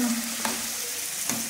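Low, steady sizzle of potatoes frying in spices in a pan, with a couple of faint taps of a utensil.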